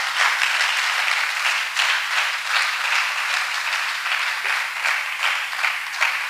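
A church congregation applauds during a ministerial visit, a loud, sustained wash of many hands clapping with slight swells in intensity over several seconds.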